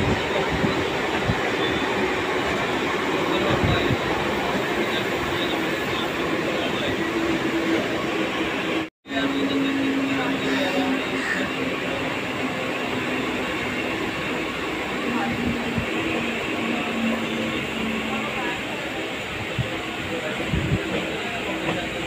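A Mumbai local train nears Parel station, its steady loud rolling rumble and rail noise continuous throughout, with a brief dropout midway.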